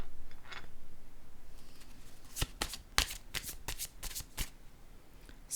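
Tarot cards riffled and shuffled by hand, giving a quick run of crisp, loud snapping flutters after a softer rustle at the start, with no talking.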